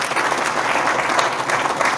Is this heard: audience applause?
yes